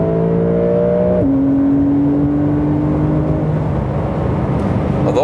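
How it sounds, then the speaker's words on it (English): Porsche 911 flat-six engine of the 992 generation heard from inside the cabin, a steady loud drone whose pitch drops after about a second, as in an upshift, then climbs again near the end. "the sound of the 911 has never been like a very roaring one if you compare it to other engines"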